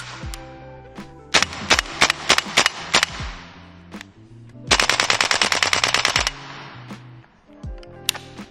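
A Tokyo Marui AKM gas blowback airsoft rifle fires in a few short bursts and then one longer rapid string, sharp loud cracks with the bolt snapping back on each shot, heard close in a quiet room.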